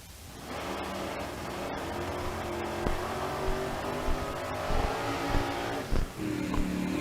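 Modified drag race cars rev and accelerate loudly at a drag strip, a continuous engine roar that swells with sharp revving bursts, no voices over it.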